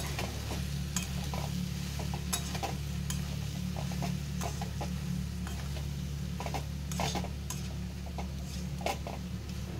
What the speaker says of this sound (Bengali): আমি সয়াবিনটাকে আবার ঢাকন দিয়ে কষিয়ে নেব